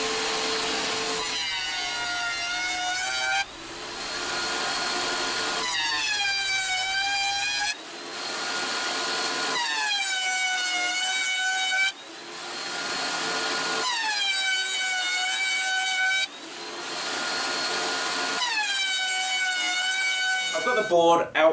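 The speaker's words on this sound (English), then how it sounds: "putting a piece of wood through the thickness planer" A thickness planer feeds a glued-up wooden board for a chess board through in repeated loud passes, each a sustained whining cut that starts abruptly and stops with a brief break before the next.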